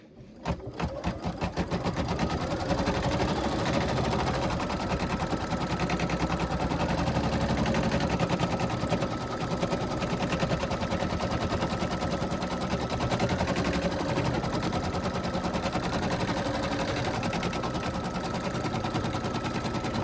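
A sewing machine runs steadily for about twenty seconds, stitching a gnome's beard down in place: a dense, continuous motor buzz with fast needle chatter, loud and close, starting up in the first couple of seconds.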